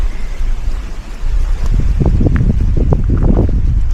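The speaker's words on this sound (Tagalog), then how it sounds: "Lakas ng hangin. Hindi ko alam kung naririnig nyo sa background." Strong wind buffets the microphone with heavy low rumbling gusts that build and grow louder toward the end, with no one speaking.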